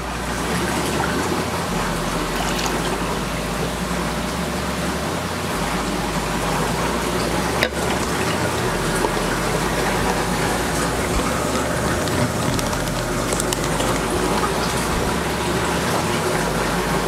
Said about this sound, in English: And then we're gonna top it off with salt water.